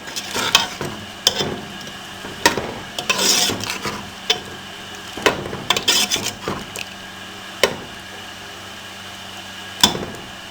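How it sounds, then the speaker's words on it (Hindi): Beef haleem being stirred in a pot after garam masala is added, with irregular scraping and clinking spoon strokes against the pan at close range, with no talking. "अब इसको हम अच्छे से मिक्स कर लेंगे।"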